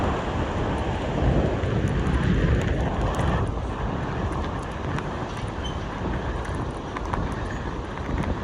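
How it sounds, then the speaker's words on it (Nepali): Strong wind gusts near the Hillary Suspension Bridge on the trail to Namche in Nepal, a loud, continuous rushing roar that swells and eases without any speech. "हावा"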